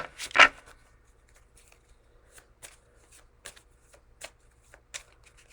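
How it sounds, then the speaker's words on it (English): Playing cards being shuffled by hand in a quiet room: a loud riffle burst at the start, then a run of soft, irregular flicks and snaps as cards are sorted, with no talking. "I don't have all night to finish this kind of shuffling."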